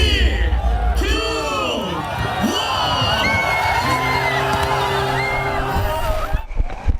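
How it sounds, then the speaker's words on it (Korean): Swimmers in swimsuits at a winter sea-swimming festival on Haeundae beach let out loud cheers and whoops as they rush into the cold sea, a dense crowd of shouting voices, with a reporter's voice faintly under it. "힘찬 함성 소리와 함께 모두 바다로 뛰어듭니다"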